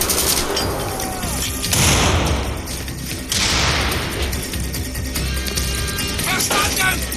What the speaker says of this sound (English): Shoot those Nazis, Blazkowicz!